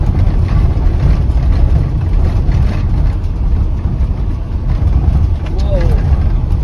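A camper van travels down a rough road near Euroa, Victoria, its engine rumbling loud and steady with a broad low roar and constant jolting road noise.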